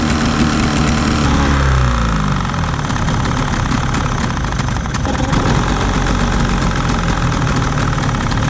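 A two-stroke outboard boat motor on a Carolina Skiff idling too high, a loud, steady close engine drone with a rough knocking texture, settling slightly lower after the first couple of seconds.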